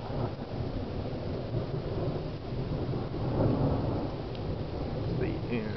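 A thunderstorm in Cambridge City, Indiana, with heavy rain hissing steadily and thunder rumbling low and continuous underneath, swelling slightly midway, with no talk.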